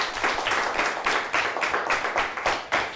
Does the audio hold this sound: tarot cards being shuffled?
no